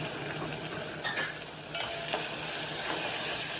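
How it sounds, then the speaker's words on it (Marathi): Finely chopped tomatoes with ginger-garlic paste and coriander sautéing in a pan, a soft steady sizzle broken by a few scrapes and clinks of stirring, fairly quiet and close, with no voices. "व्यवस्थित परतून घ्यायचं आता याच्यामध्ये टॉमॅटो घालायचे बारीक चिरलेले टॉमॅटो घातले"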